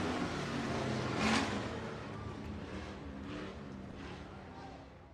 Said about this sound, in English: Hobby Stocks come to the track now for their A feature event.